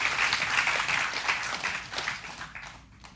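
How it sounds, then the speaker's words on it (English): Audience applause at a gathering, a dense burst of many hands clapping that thins out and fades toward the end. "And can we all clap to that?"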